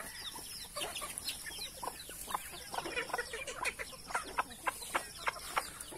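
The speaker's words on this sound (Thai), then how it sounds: "ก็ไก่เขาก็กินนะครับ" Free-range backyard chickens forage in brush under cherry trees on a morning farm, clucking softly and repeatedly in short, scattered calls that grow into a rhythmic run of louder clucks, with no voices.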